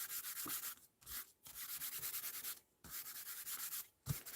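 An embossing buddy powder pouch rubbed over paper, giving soft, close scratchy strokes in a rhythmic back-and-forth pattern broken by brief pauses.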